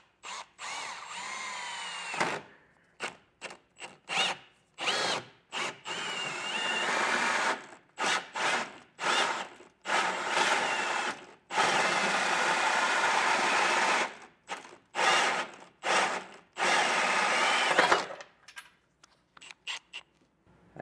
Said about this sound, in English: I'm going to use a hole saw to get that opened up.